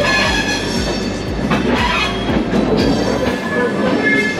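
A Rajdhani Express train rolls out of Howrah station, with rhythmic clickety-clack of wheels over rail joints, a constant rumble and occasional wheel squeal, loud and close from inside the carriage.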